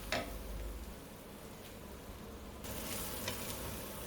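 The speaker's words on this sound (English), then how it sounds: "once the onions get a little bit brown, we're going to add the turmeric. Give that a good stir." Onions and turmeric frying in a pan while being stirred, a low steady sizzle with faint scraping that brightens and grows slightly louder toward the end, heard alone without talk.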